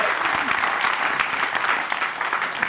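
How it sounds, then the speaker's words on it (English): A conference audience breaks into applause for a presenter, a dense, lively clatter of many hands clapping close and continuous, with a faint voice underneath. "So can I get a big applause for my savior"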